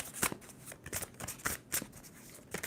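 Tarot cards are shuffled in quiet, crisp riffling bursts, about half a dozen in quick irregular succession, close by and with no talking.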